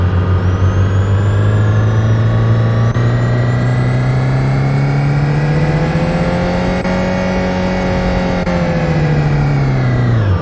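A Ford Transit van engine in Euro Truck Simulator 2 drones loudly and steadily, its pitch slowly rising then falling as it revs, continuous throughout with no talking.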